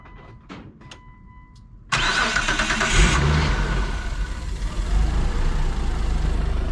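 A Mitsubishi Eclipse 3G cranks with faint beeps and clicks beforehand, then the engine fires abruptly and settles into a loud, rough, steady idle close by.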